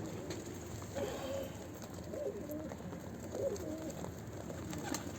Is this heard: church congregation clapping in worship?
no